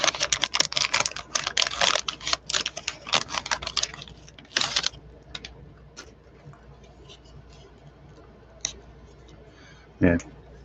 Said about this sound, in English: I was just typing stuff in